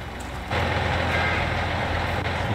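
A tractor in Farming Simulator 19 drives toward a field, its engine a steady, loud, low rumble that jumps up in level after a brief quieter start and holds constant.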